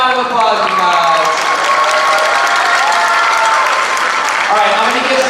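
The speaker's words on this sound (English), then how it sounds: "Let's give one more round of applause" An audience at a high school drumline sendoff claps in dense, loud, continuous applause mixed with cheers and whoops throughout.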